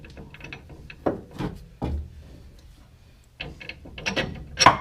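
A bolt is worked free of a drop shackle hanger on an LML L5P truck, giving scattered metallic clinks, scrapes and ratchet-like clicks in short bursts with quiet gaps, close and moderately loud.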